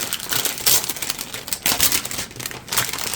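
Plastic packaging on a set of Chromatech markers is opened with loud, close crinkling and crackling that comes in repeated bursts, and no one speaks.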